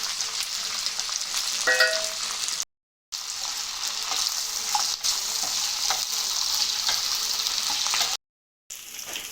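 Cumin, green chillies, garlic and curry leaves frying in oil in a pan for tomato roti pachadi, a steady loud sizzle with faint stirring clinks, briefly cut to silence twice.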